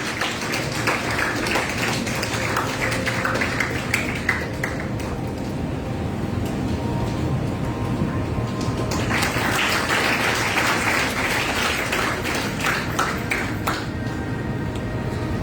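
A crowd applauds at a yoga garba inauguration at a nature cure centre in Jamnagar, steady clapping that runs on, dips partway through, and then swells again to a full, dense round.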